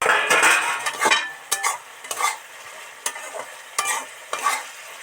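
Vegetable momo filling frying in a pan with a splash of water, stirred with a utensil that scrapes and clinks against the metal in repeated strokes over a steady close sizzle, with no talking.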